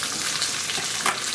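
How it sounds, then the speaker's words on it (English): Sliced mushrooms hit a hot pan and sizzle, a bright, hissing fry with a short stir-like burst near the end, close and steady without any talk. "Sliced mushrooms are going in."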